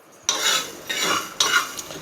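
Three sharp scraping stirs while dry-roasting spices in a pan, each a quick rasping swish of a utensil against metal with dry rattling, spaced about a second apart.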